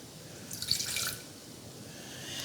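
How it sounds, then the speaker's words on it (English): Half a cup of water pours into a saucepan set over a burner in a short, faint splashing burst lasting about half a second, followed by a quiet trickle. "So I have a saucepan over a burner, and I'm going to put a half a cup of water."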